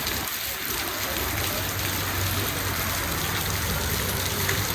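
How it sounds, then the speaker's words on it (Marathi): Rain falling during summer in steady, dense hiss, close and continuous with no pauses and no voices over it. "उन्हाळ्यात पाऊस पडू लागला"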